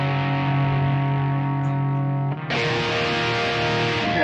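Sustained distorted guitar chord through a Yamaha THR10X amp with a delay effect, ringing with echo trails, then a fresh strum that cuts in brighter and fuller, no talking.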